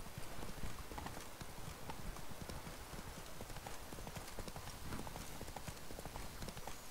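Roach, the horse in The Witcher 3, gallops in a steady rapid clip-clop of hooves that runs the whole time, with a faint voice partly under it.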